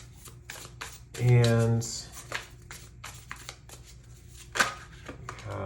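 Tarot cards being shuffled in a quick riffling burst near the start, close and crisp, with a person speaking briefly before and after.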